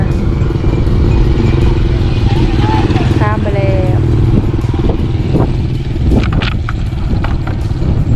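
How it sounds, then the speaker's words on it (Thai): A motorcycle rides toward the listener through a riverside village, its engine a steady loud drone throughout with clattering under it, while voices talk over the top. "เขาจะขี่รถจักรมา"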